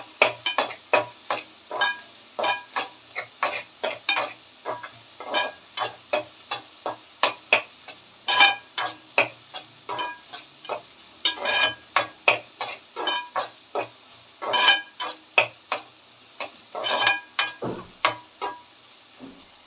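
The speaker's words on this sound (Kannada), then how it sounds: "ನೋಡಿ ಸ್ನೇಹಿತರೆ ಇವಾಗ ಸ್ವಲ್ಪ ಈರುಳ್ಳಿ ಕೆಂಪು ಕೆಂಪಗೆ ಆಗ್ತಿದೆ" Onions frying in a pan and stirred with a utensil, giving a steady rhythm of sharp scraping strokes over a soft sizzle throughout, close and fairly loud, with no talk.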